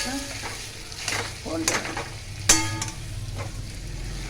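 Potatoes fry in a pan as they are stirred and mixed, a utensil scraping and tapping a few times over a continuous sizzle, close.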